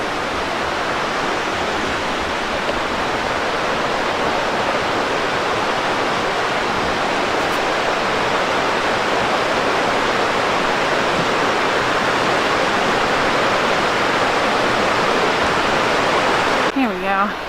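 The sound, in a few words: flowing water of a stream beside a trail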